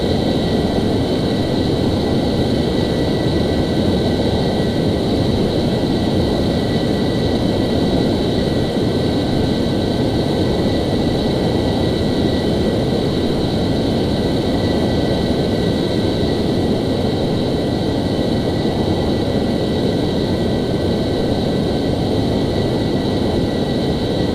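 An F-14 jet in Flight Simulator X cruises at altitude, a steady, loud, unbroken jet-engine roar with a constant high whine above it, no voices.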